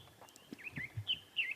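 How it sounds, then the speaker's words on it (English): A scimitarbill gives several thin, high chirping calls in short succession, faint and slightly distant, at sunrise in the Sabi Sand reserve, with no one talking. "No, I can hear him. There's a scimitar bill."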